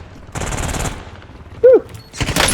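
Shotgun blasts in a first-person shooter video game, heard as a loud burst of gunfire, a short pause, then another heavy blast, with a brief whistling game tone between them.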